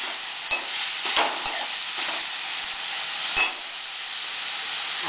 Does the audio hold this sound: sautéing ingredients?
yes